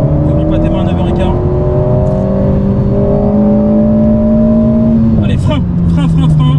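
An Alpine car in sport mode pulls away hard on a race circuit, its engine note climbing steadily through a long loud rev, then a gear change and renewed rise, with a voice speaking over it.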